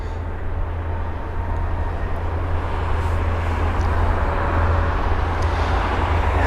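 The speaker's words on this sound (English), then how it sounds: "This is the Finnair A350-900." A Finnair Airbus A350-900 passing at London Heathrow, a steady broad jet roar with deep low rumble that holds at a constant, fairly loud level throughout, without talk.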